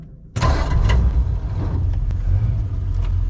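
A 1947 Ford truck engine cranks and fires at once, then settles into a loud, steady, low rumbling idle up close, with a mechanical clatter on top.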